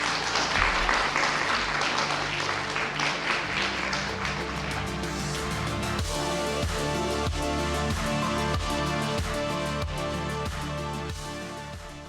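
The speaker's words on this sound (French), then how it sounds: "je crois qu'on peut les applaudir" An audience applauds after a round table on animal sanctuaries and speciesism, a dense burst of clapping for about six seconds before giving way to rhythmic music.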